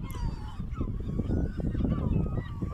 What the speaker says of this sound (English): And plenty of bird life here.